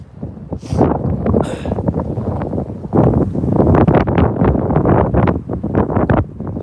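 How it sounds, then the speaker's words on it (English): Strong gusting wind buffeting the microphone outdoors beside a railway line, a loud continuous roar with rough swelling gusts and no one talking. "Wind is stinking ridiculous."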